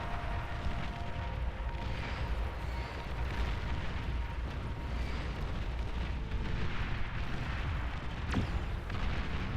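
Tank artillery booms in a large 8v8 battle in the strategy game Beyond All Reason, a dense, continuous rumble of overlapping explosions and shots at moderate volume throughout.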